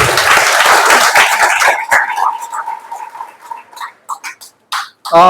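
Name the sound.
audience applause at a meeting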